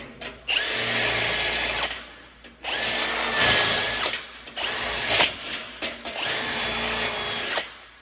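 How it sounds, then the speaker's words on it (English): A power drill runs in four sustained bursts, grinding into metal on a vehicle chassis with a high whine, separated by short pauses; close and loud. "This one I need to drill a little bit"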